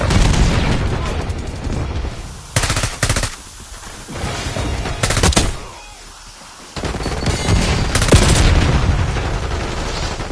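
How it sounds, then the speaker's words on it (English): Grenade blasts in the video game Call of Duty Warzone: several loud, sharp booms burst out at irregular intervals amid ongoing gunfire, with a brief lull before the din returns. "Grenade coming in."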